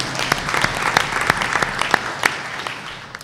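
Applause for new staff members at a school Board of Education meeting, with distinct individual claps rising out of a moderate, steady round of clapping in a meeting room.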